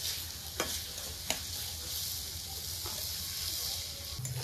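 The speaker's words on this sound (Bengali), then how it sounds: "চালগুলো ভালো করে ভাজা ভাজা করে নিব" Drained rice frying in masala in a wok, a constant sizzling hiss broken by a few sharp spatula knocks and scrapes, close and without voices.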